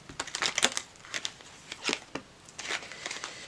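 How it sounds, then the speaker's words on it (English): Tarot cards are shuffled up close in several quick, papery bursts of riffling and sliding, with short quiet gaps between them and no speech. "One more shuffle."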